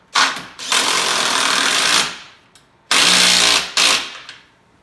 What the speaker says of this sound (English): grab your impact driver, grab your wrench, and tighten up the assembly.